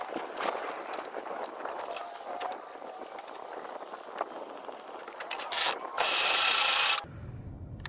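A winch ratchets in short clicking bursts to tension a 30 lb soft steel fishing leader on a test rig, faint mechanical clicks throughout, ending with a louder sustained hiss-like grind before it stops.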